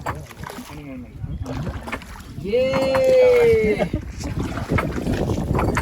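A boat glides over the lake water at Mahabaleshwar with steady splashing and wash, while school friends chat and call out loudly over it the whole time.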